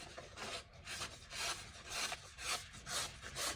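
A budget Demko knife with an AUS 10 clip point blade, stonewashed and flat ground, slices through paper in a run of close, rasping strokes, each swell of scraping texture following quickly on the last.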